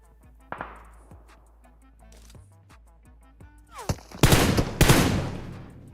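Gunfire in the battle royale game PUBG, a handful of sharp single shots early on, then two loud bursts of rapid automatic fire near the end, close and clear over faint game music.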